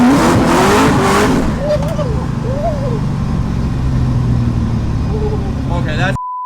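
Supercharged LS3 V8 in a BMW E36 pulling hard on a dyno, a loud, sustained engine roar with rising pitch sweeps through the revs, people talking over it, then an abrupt cutoff to a steady tone.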